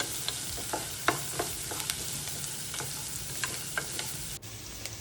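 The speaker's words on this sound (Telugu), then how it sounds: "ఇప్పుడు ఒకసారి మళ్ళా కలుపుకొని" A spoon scrapes and stirs flattened-rice poha upma in a hot pan, a steady sizzle broken by irregular clicks and scrapes, close and alone.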